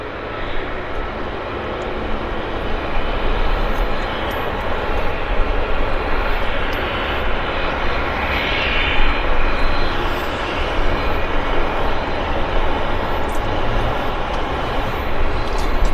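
A Porter Airlines plane bound for Montreal at Vancouver Airport gives a steady, loud broadband engine roar that holds and swells slightly throughout, with no talk over it.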